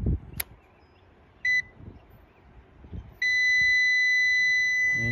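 A multimeter beeps during a continuity test on an HVAC pressure switch in a Trane heat pump. A short beep comes first, then a sustained steady tone follows a few clicks and handling noises. The beeps are close and clear, with no talking.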